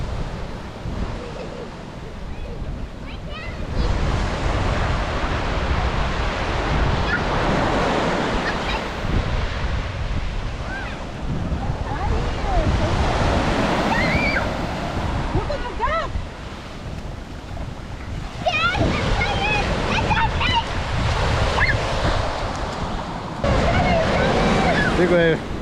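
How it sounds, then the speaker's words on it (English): Big ocean waves crash and roll in along a stormy Costa Rica shore, loud and continuous with surges and heavy wind buffeting the microphone, while voices talk intermittently underneath. "They're big waves, so they can't go very far,"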